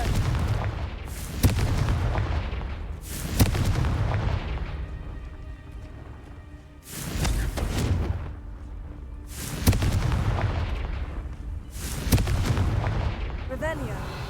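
Repeated Confringo blasting-curse explosions in Hogwarts Legacy on PS5, about six loud, booming bursts each with a rumbling tail, spaced roughly every two seconds over game ambience.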